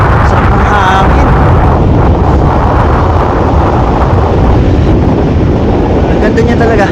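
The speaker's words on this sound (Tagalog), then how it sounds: "Sarap ng hangin." Strong wind buffeting the microphone on a long, wide beach in Pangasinan, a loud continuous rumbling roar with no pauses, up close.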